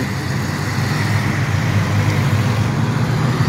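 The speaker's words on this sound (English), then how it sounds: "There goes the Cuda over there." A Plymouth Barracuda driving past at a Mopar car show, its engine a steady broadband rumble close by for a few seconds, without any speech.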